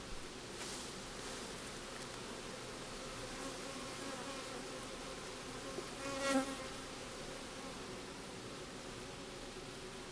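Steady, dense hum of many honeybees droning around an open hive, close and even throughout, with a brief louder swell partway through.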